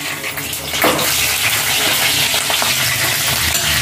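Chicken frying in a pan makes a steady, loud, dense sizzle that runs unbroken throughout, with a brief sharper burst near the start and no talking.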